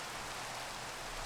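Steady rain falls in the Minecraft world of Modern Skyblock 3, a quiet, even wash of broadband hiss with no distinct drops standing out and no voices over it.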